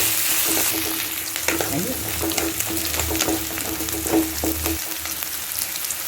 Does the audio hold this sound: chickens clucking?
no